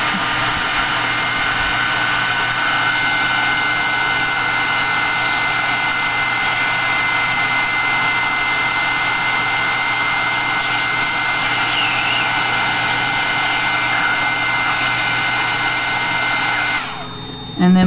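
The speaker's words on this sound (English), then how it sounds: "then you can turn your heat gun over to the top and then heat it until it begins to melt" A heat gun blasts hot air onto enamel on a stone, a loud, steady whooshing roar held close for most of the time before it cuts off abruptly near the end.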